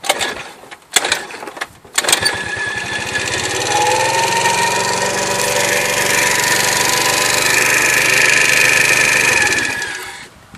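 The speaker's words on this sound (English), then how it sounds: "It only starts when I kickstart it." A moped engine sputters through a few short kickstart bursts, then catches and settles into a steady, close, buzzing idle that runs until it cuts off.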